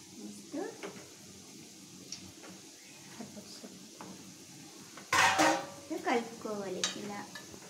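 A spoon stirs and scrapes through a sugar syrup mixture in a metal pot while making badusha, with scattered clinks and a louder clatter of utensil on metal partway through; someone talks over it.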